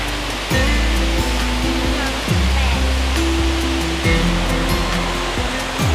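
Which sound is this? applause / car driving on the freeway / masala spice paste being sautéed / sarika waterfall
sarika waterfall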